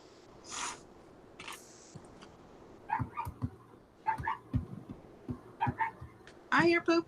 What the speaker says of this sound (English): You hear the puppers? Yeah, she's in there barking at Dennis.